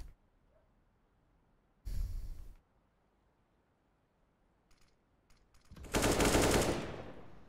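AK rifle sprayed in a Counter-Strike match on the Mirage map, two short bursts of rapid automatic fire, the second louder and longer, separated by near silence and faint clicks.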